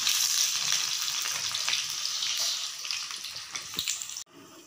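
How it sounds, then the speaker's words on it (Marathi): Kothimbir wadi, coriander fritters, deep-fry in hot oil with a dense, bubbling sizzle heard close and fairly loud, easing slightly before stopping sharply near the end. "एकदम व्यवस्थित असे हे तळून घ्यायचं आहे."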